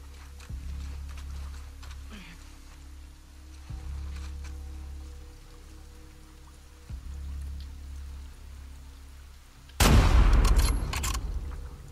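Gunfire in The Last of Us Part II: a low, rumbling game soundscape with a few soft thuds gives way near the end to one sudden loud, broadband shot-like blast.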